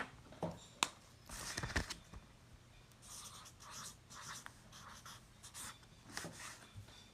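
A pen scratches across paper in short irregular bursts of strokes, close and fairly quiet, with small taps and pauses between the writing.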